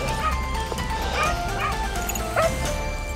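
A hunting dog barks and yips in quick bursts during a big-game hunt outdoors, with whimpering cries between the barks over a steady low rumble.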